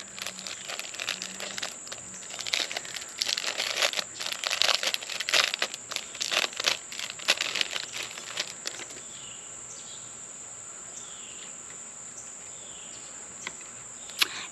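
A plastic-wrapped package being opened, with loud crinkling and tearing bursts for about nine seconds, then quieter with a steady high background whine.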